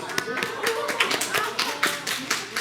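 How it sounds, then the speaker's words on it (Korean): A church congregation claps together in a fairly even rhythm of sharp hand claps, with a voice or murmur faintly underneath. "박수 한번 주세요."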